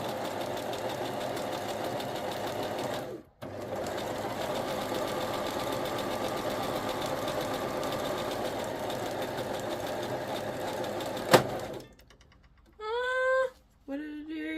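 A sewing machine runs steadily as it stitches lace and fabric, a long continuous mechanical whir with a brief pause and a sharp click near the end, followed by short bursts of stitching.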